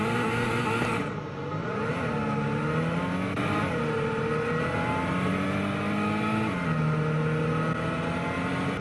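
Alfa Romeo 4C with a four-cylinder engine and mid-mounted exhaust tips accelerating in the Roblox game Taxi Boss, a steady loud engine note whose pitch climbs and drops through gear changes, continuous with no talking.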